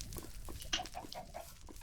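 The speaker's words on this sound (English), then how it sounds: "Hello chickens" Chickens cluck in Minecraft, brief soft bird calls and clucks scattered across a short, quiet stretch with a few sharper peaks, no talking.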